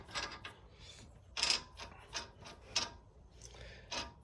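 Ratcheting and clicking of a hand tool working a strut bolt loose on a 2009-14 Acura TL during a KYB shock replacement, in short separate bursts about every half second to second, close and fairly quiet.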